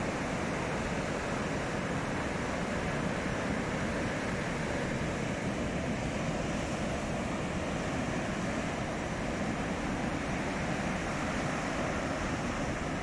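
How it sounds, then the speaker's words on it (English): Ocean surf roars continuously at Isipingo Beach, South Africa, a thick, steady wash of waves a couple of meters high breaking, with wind noise buffeting the microphone and no voices. "Have a look at those waves. Huge waves."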